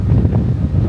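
Strong storm wind roars steadily across a hilltop near the Portugal border, a loud, constant low buffeting rumble against the microphone.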